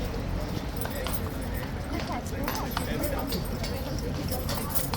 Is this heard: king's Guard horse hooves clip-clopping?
yes